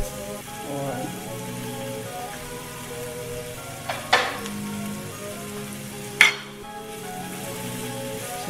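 Chopped onion sizzles softly in a hot pan while being sautéed for Filipino beef papaitan, a steady faint crackle under background music, broken by a couple of brief sharp clatters.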